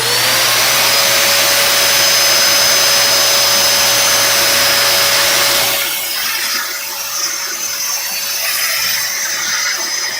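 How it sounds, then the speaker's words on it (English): A vacuum cleaner cleans a computer keyboard, a loud steady whine with a rushing airflow that drops off about halfway through, leaving a lower, quieter hum. "it was a vacuum cleaner"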